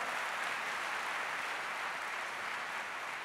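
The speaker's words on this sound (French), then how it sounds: "Merci de l'applaudir très fort." An audience applauds the composer at the opening ceremony of the 2010 Marrakech festival: a dense, steady wash of many hands clapping, fairly far off and soft, holding even throughout with no gaps.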